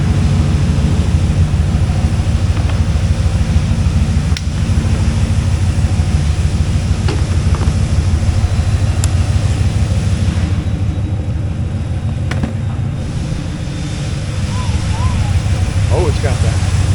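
A 1995 Corvette C4 with an LT1 engine driving: a steady low engine rumble and road drone that holds throughout, without obvious revving.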